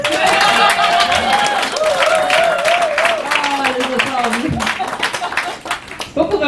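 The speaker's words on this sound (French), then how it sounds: "applaudissez-moi juste pour me prouver que ça va bien" An audience at a Montreal slam poetry night at Bar Populaire claps and cheers, with loud, dense applause filling the room and tapering slightly toward the end.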